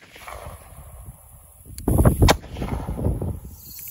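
A .22 WMR rifle fires over a chronograph: after a quiet stretch comes a sharp, close report, followed quickly by a second crack and a brief fading rumble.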